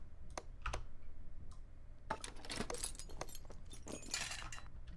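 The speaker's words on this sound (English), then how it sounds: "Now, apologies if my keyboard is a little loud." Rapid clicking keystrokes from a mechanical computer keyboard, a few isolated taps at first and then a dense burst of fast, fairly close typing.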